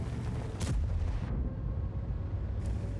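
Tank cannon shot in World of Tanks, the FV227 Conceiver on the battlefield: a loud, broad boom with a bright burst around half a second in, then a second crack near the end over a constant low engine rumble, with no talk.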